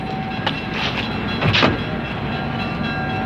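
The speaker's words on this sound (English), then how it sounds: "Paul, I think I hear it. It must be our train." A train approaching a station, a steady rumbling roll with faint clatter and a brief rise in noise midway, heard close and continuous without speech.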